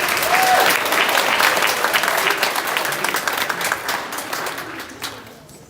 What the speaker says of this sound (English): let's give Miss Sprinkle a round of applause